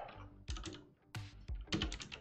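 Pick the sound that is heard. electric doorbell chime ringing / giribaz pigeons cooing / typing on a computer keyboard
typing on a computer keyboard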